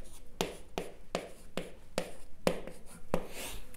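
Pen or marker strokes on a board or paper while numbers are written out in a math lesson, a series of about eight quick, close, crisp taps and scrapes at a steady rhythm, with no talking.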